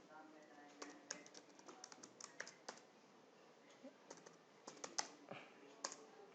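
Keys clatter in uneven bursts as code is typed on a computer keyboard for a Bootstrap 5 navigation bar, close and fairly quiet, with brief pauses between runs of strokes.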